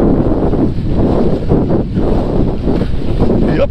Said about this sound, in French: Vous avez vu que là, je me prends quand même pas mal de projections d'eau.